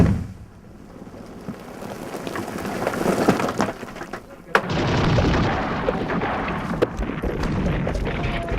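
Staged gunfire at an Anzac war reenactment, held at night: a steady wash of rumbling battle noise with one sharp, loud shot cracking out midway, followed by continuing roar and scattered fainter reports.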